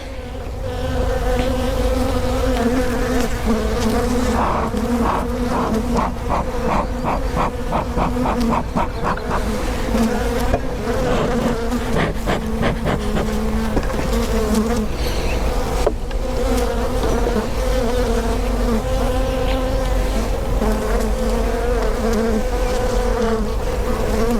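Honeybees drone loudly and continuously from an open, well-populated hive, a dense, close buzzing that holds steady for over twenty seconds.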